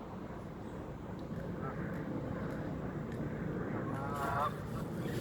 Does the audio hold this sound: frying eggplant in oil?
no